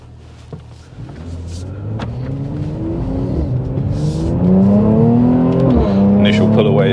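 Mercedes C43 AMG in Sport Plus mode pulling hard on test tyres, the engine note climbing steadily and growing louder through the gears, heard from inside the cabin.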